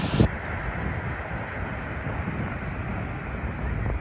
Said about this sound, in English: The beautiful waterfall.